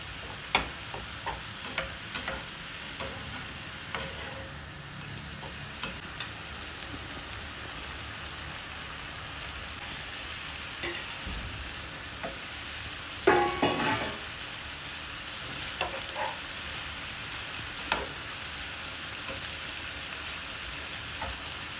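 Minced meat sizzles in a wok just after a splash of Shaoxing rice wine, a steady crackling hiss with scattered louder pops and a brief burst of stirring partway through, no voices.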